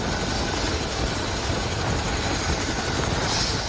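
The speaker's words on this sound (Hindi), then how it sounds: "अभी हेलीकॉप्टर यहाँ पहुँचा है और कुछ लोगों को लेकर के वहाँ से आया है" Rescue helicopter arriving at a disaster site after a cloudburst in the mountains, its rotor and engine roar loud, close and continuous throughout with no pauses.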